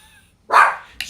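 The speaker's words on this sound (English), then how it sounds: "That's the dog barking because there's a dog in the hallway." A dog in a hallway gives a single sharp, fairly close bark, followed by a brief softer yip.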